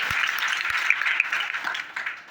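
Schoolchildren in a classroom at Ramsundar inter-level school in Rampur, Kahalgaon, Bhagalpur give a round of applause: dense, steady clapping from a group, close by and sustained without a break.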